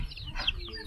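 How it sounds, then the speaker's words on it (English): Chickens cluck and murmur close by in a quick, brief burst of bird chatter. "the chickens are trying to steal the dog's bones"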